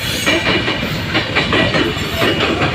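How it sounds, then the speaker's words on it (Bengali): The Banalata Express passenger train rolling past Tongi outer in Bangladesh, a loud, close, continuous rumble with a rhythmic clickety-clack of wheels over rail joints and a faint hiss, with no voices. "রাজশাহী চাপাইনবাবগঞ্জ অভিমুখী বনলতা এক্সপ্রেস টঙ্গি আউটার অতিক্রম করে যাচ্ছে"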